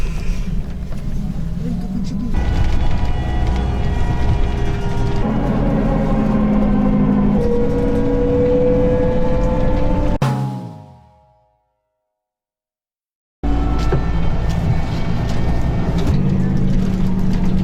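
A trolleybus travels the road from Simferopol to Yalta, giving a steady loud electric motor whine and rolling road noise that rises and shifts pitch, cuts out to silence for a few seconds, then resumes just as loud.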